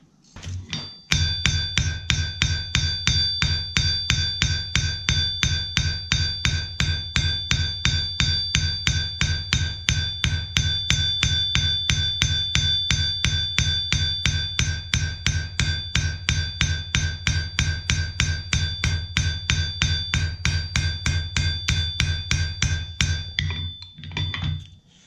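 Close, steady blows of a ball peen hammer forging hot metal petals on an anvil on a cold day. The strikes are rapid and evenly spaced, and each one rings with a metallic ping, continuing for about twenty-five seconds without talk.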